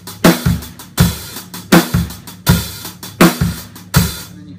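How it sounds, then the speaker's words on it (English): Drum kit playing a fatback hi-hat groove with the bass drum on the e's of beats 2 and 4, loud, close and steady, repeating bar after bar with no talk. "moving the bass drums on the E's of 2 and the E's of 4"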